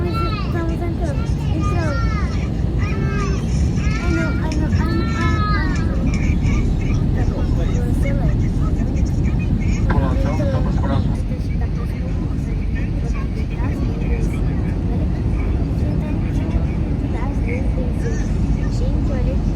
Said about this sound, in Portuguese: Gente, o avião tá pousando.